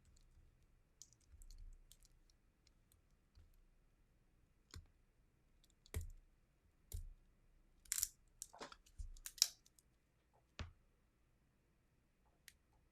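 Sealed wrapper of an Attack on Titan Universus trading card pack being picked at and torn open, with scattered crinkles, clicks and sharp rustling bursts, mostly quiet between them and busier near the end.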